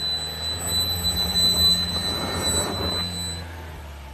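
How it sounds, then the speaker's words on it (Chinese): A Toyota Highlander on an off-road climb gives a sustained high-pitched brake squeal over a low engine drone, loud and close, swelling in the middle and then fading, with no talking. "怎么回事，有这么大刹车声音"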